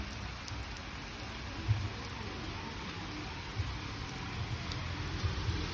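Steady rain falls on a countryside farm, a constant soft hiss of drops with a few louder patters against nearby surfaces, no talk.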